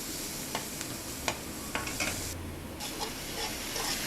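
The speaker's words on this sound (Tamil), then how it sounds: "கொஞ்சம் மிளகாத்தூள், கரம் மசாலா கொஞ்சம் போட்டு நல்லா ஃப்ரை பண்ணிடணும்" Chili powder and garam masala fry in a pan for macaroni, a continuous close sizzle punctuated by a few distinct scraping stirs of a spoon, with no talking.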